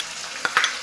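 Elephant-foot taro being stirred in a wok with grated coconut and jaggery, a few short scraping strokes over a soft, steady sizzle, close and brief.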